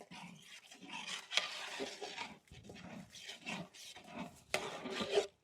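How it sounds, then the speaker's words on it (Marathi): Cashew and melon seed paste being stirred into cauliflower gravy in a pan, giving soft, thick scraping and squelching in rhythmic bursts, close and moderately quiet. "आपण आता यामध्ये काजू आणि मगजची पेस्ट केलेली ती घालून घेऊ व्यवस्थित मिक्स करून घेऊ"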